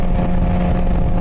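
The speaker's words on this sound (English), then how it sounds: "it's just something unique about the reverberations of the engine" A loud, steady car engine roars and echoes inside a tunnel, a dense sustained rumble filling the space close by with no break or voices.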